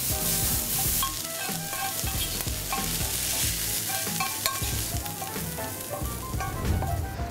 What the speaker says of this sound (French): Un petit peu d'ail haché. Et on fait sauter le tout jusqu'à ce qu'elle soit translucide.